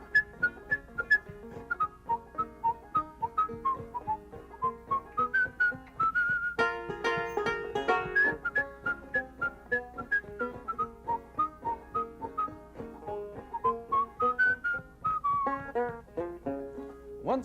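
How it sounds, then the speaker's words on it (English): A folk tune is whistled clearly and melodically, close up, in phrases running continuously against a steady rhythmic accompaniment. "He was whistling this tune to himself"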